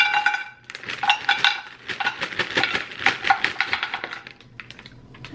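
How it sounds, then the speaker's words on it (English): Gnocchi sautéed in olive oil in a pan, with a busy run of close clattering taps and scrapes of a utensil against the pan and no talking. "that's it, and just saute them."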